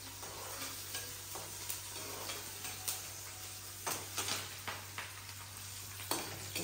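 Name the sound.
potatoes and onions with spices crackling in pan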